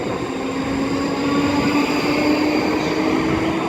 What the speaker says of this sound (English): there's 334013 now departing with the 10:48 ScotRail service to Milngavie from Edinburgh Waverley